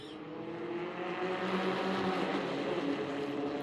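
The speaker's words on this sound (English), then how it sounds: "Kel, that's going to be Weston Freeman and Kyle Seiler for the restart here on lap number 10." Allison Legacy Series race cars at Hickory Motor Speedway roar through a restart, a dense, steady wall of engine noise with layered revving tones holding loud and close throughout.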